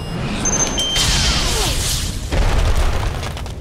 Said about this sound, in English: Press Q button to use your missile barrage.